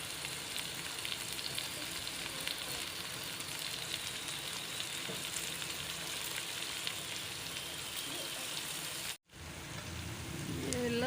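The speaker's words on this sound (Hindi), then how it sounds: "ये लहसुन अदरक का पेस्ट शामिल कर रही हूँ। प्याज फ्राई हो गया" Onions fry with garlic ginger paste in a pan, giving a dense, continuous sizzle close up that cuts off sharply for a moment before the frying resumes.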